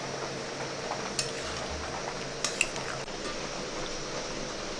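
Chickpeas being stirred through spiced masala in a pan, a steady low sizzle with soft scraping and a few sharp utensil clinks against the metal, close and continuous.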